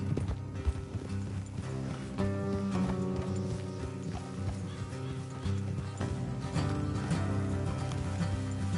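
Horse hooves clip-clop steadily at a gallop, with an occasional whinny, in the open-world game Red Dead Redemption 2, the galloping carried under a layered musical score.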